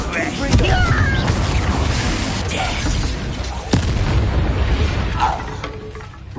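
Bombarda blasting spell detonating in Hogwarts Legacy combat: a booming explosion with a sharp burst, set in a dense, continuous mix of game effects and voices.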